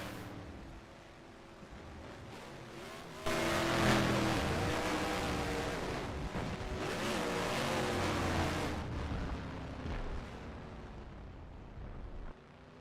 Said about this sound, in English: Burn it down, Keith McLean, your race winner.